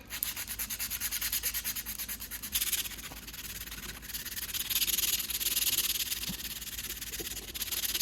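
A handmade hunting knife is rubbed with sandpaper, making a continuous close rasping scrape with slight surges in stroke pressure and no voices.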